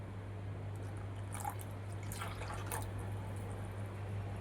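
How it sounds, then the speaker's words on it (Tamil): Water is poured into a pot of boiling lentil kuzhambu, a steady liquid splashing and bubbling over a constant low hum, with no voices. "கொஞ்சம் தண்ணி சேர்த்துக்கிறேன்."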